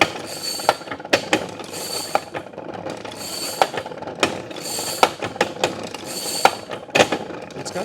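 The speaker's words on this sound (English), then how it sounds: "It's actually a pretty nifty ratcheting mechanism right here." A vintage blacksmith forge's ratcheting mechanism clicks repeatedly and close up, with sharp metallic snaps arriving at an uneven, fairly quick rhythm over a steady mechanical rattle.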